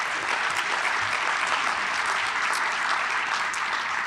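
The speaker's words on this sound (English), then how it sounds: "I'd like to give a big round of applause to the IMA team and the IRMA team for pulling this together" Sustained, even applause from an audience at an Illinois business development event where the governor is speaking, a dense wash of many hands clapping steadily at a moderate distance throughout.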